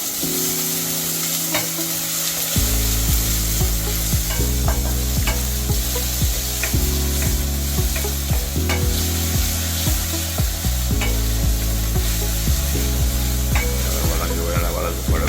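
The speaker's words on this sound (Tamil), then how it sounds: "இப்போ வெங்காயம் போட போகிறோம்." Onions stirred into a mustard-seed tempering, sizzling continuously with wooden scraping and clicks, close and loud, while a steady melodic music bed plays underneath.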